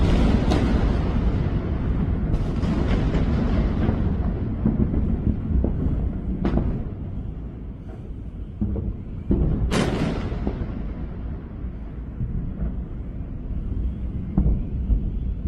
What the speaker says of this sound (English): we can still hear the cracks and whips of air defense interceptors flying overhead